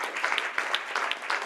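Audience applause at a book launch event, a steady wash of clapping from a crowd that holds for the whole moment without a break.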